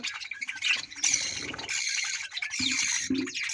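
Budgerigar chicks in a nest give a continuous, close chorus of raspy squawks and chirps in overlapping bursts.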